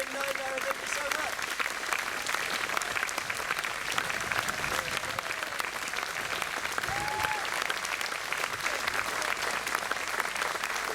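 An audience at a folk music concert at Abbotsbury gives sustained, dense applause at close range, with faint voices mixed in.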